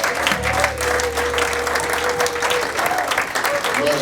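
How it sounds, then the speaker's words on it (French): A church congregation applauding and cheering, steady clapping throughout with a voice sounding over it and a sustained tone running beneath. "Merci parce que vous avez acclamé pour moi"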